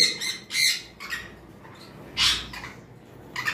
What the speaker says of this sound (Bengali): আমাদের কাছে এখানেও দুইটা পেয়ার কোকাটেল রয়েছে